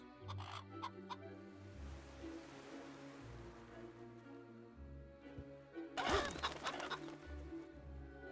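Chickens in the Fable Anniversary video game cluck in short bursts over a soft, wash-like ambient background and game music, with one louder burst of flapping and squawking near the end.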